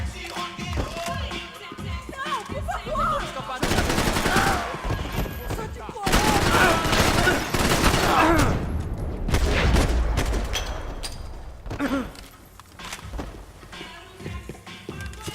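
Gunfire erupts in bursts of rapid, loud shots, dense and overlapping like a firefight, with pauses between volleys and voices shouting underneath.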